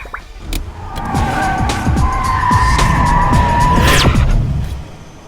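A car turns around with its tyres skidding and squealing, the engine revving close and loud. Sharp tyre screeches rise and fall over a steady motor roar, ending in a high squeal before the sound eases off.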